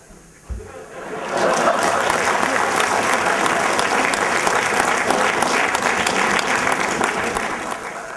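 An audience at a business-school talk breaks into applause: a brief thump, then dense clapping swells in after about a second and stays loud and sustained, tapering a little toward the end.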